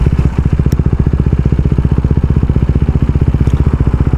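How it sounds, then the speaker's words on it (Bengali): A motorcycle coasting down with the clutch released and no brakes applied, its engine giving a steady, rapid, close-up thumping throb that stays even throughout. "বাইক স্লো হইতেছে"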